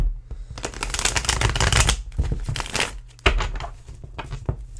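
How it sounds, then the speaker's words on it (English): A deck of tarot cards is shuffled close by, with quick riffling bursts and papery flutters separated by short pauses. "I'm going to shuffle the cards up, and then we'll start."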